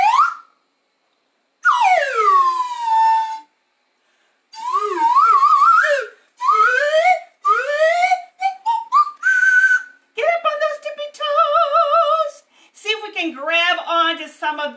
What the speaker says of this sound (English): We're going to start with our wonderful handy dandy whistle.